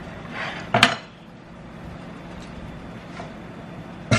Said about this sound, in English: with the pan and the spatula flipping together